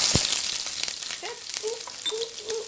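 Onion and garlic drop into heated olive oil and begin frying with a soft, crackling hiss, light stirring clicks and faint squeaks scattered over the sizzle.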